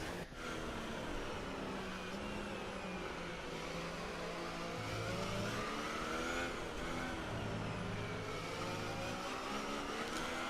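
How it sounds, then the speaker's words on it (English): An F1 car engine from the F1 2018 video game runs at moderate pace behind the safety car, a steady mid-pitched drone with gear-change rises and dips, onboard and continuous. "here we are doing the safety car period on board with Kevin Magnussen"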